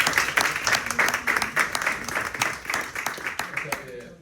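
Audience applause for two presenters, Sergio and Paula, at a talk on research, development and innovation needs, with dense clapping that holds steady and then thins toward the end, under a faint murmur of voices.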